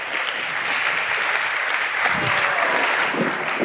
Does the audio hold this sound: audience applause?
yes